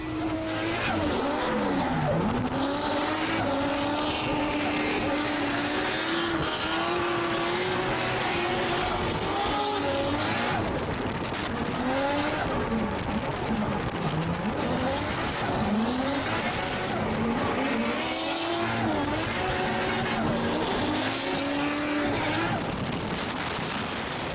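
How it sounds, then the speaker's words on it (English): Drift cars run a tandem battle at a Perth drifting grand prix, engines revving and bouncing through continuous wavering pitch while tires squeal and skid, loud and sustained from start to finish with no talk. "Daigo Saito took all of the entrants for a drive to show them exactly how tandem battles are done"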